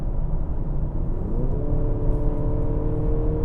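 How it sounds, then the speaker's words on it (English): A 2023 Mercedes-Benz GLC 300's four-cylinder mild hybrid engine accelerates from inside the cabin: a steady low rumble, then a smooth engine tone that climbs in pitch and holds, with no talk. "I also really like the sound of the 4-cylinder engine."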